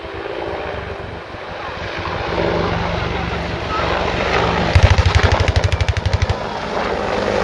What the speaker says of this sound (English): they're running in for a 30mm strike from the left